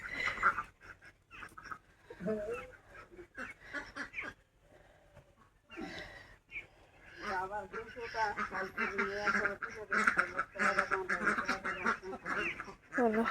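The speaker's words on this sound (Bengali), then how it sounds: "হাঁসগুলো পিছন পিছন ঘুরছে" Ducks in a home courtyard quack repeatedly in close, uneven bursts while someone talks over them, with quieter gaps between the clusters of calls.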